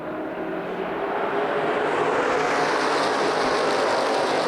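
Street stock race cars roar around the oval at Lucas Oil Raceway Indianapolis during a CRA event, a dense, steady engine drone that swells slightly as the field passes, loud and continuous with no talk.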